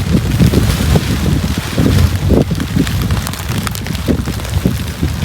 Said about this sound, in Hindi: हवा भी बहुत चल रही है, बहुत हवा चल रही है।